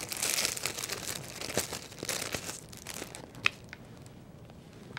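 A plastic bag is slid over a yarn-trimmed lollipop ornament, giving a steady close crinkling and rustling that tapers off into a few faint scattered crackles.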